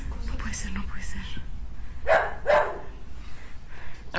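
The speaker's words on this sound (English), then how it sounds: "Oh, it's just one dog." Two sharp barks from a single dog ring out midway, loud against a murky background of whispered and spoken voices in a tense, spooky nighttime setting.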